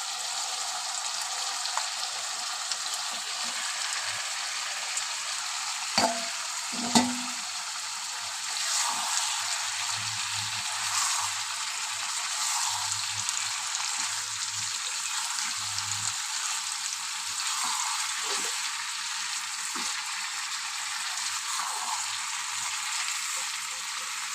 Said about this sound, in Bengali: চলো আবার আমি ভেজে রাখা এঁচোড়ার আলু ডিম দিয়ে দেবো